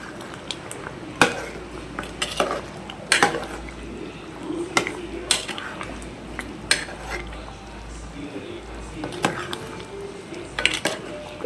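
Chicken pulimunchi in a pot being stirred after adding kasuri methi, with repeated sharp clinks of a metal spoon against the pot over a faint bubbling, wet background.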